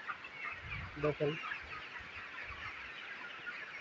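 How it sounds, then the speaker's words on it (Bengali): Farm chickens cluck softly at feeding time in a quiet outdoor setting, with a short spoken word and steady background noise. "এখন মুরগিকে একটু খাবার দিতে আসলাম, খাবার দিব।"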